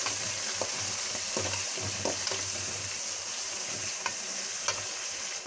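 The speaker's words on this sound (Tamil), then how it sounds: "இதையும் நல்லா வதக்கி விட்டுறலாம்." Onions, green chillies and curry leaves sauté in a pan for crab gravy, giving a steady loud sizzle throughout with scattered scraping stir sounds and small pops.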